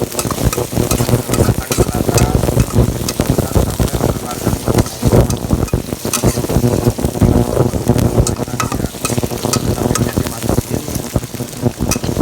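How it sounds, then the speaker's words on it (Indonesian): Garlic, shallots, ginger, galangal and lemongrass sautéing in a pan for a spicy stir-fried beef dish, giving a loud, dense sizzle with constant rapid stirring and clattering close by, with no pauses. "Ini bawang putih, bawang merah, jahe, terus laos, daun serai, kita tumis dulu."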